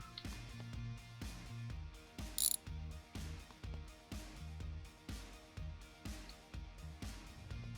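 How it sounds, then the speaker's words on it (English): A spanner ratchets while a car's front bumper is being removed. Repeated quick clicking pulls come close and fairly loud in a steady working rhythm, with a brief metallic clank midway. "grab the spanner again"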